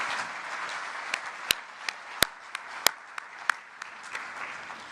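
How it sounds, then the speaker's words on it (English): A scattered audience at a Nestlé award ceremony claps for two finalists. The applause is light and fairly quiet, with a few sharp individual claps standing out above a soft wash of clapping. "Let's give the 2 finalists a round of applause again"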